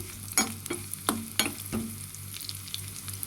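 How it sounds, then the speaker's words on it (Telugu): Sago pearls frying in a pan until light brown while being stirred, with a soft steady sizzle and a few sharp scraping clicks of the spoon against the pan, close up and without talk. "కొద్దిగా బ్రౌన్ కలర్ వచ్చే వరకు అయితే ఫ్రై చేసుకుందాం"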